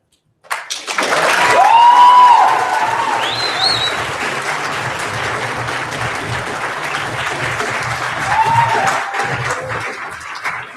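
A crowd applauds a poetry slam performer at a Louder Than a Bomb Great Plains 2015 bout, loud and sustained clapping that starts abruptly, with a whoop or whistle rising over it early on before it slowly eases.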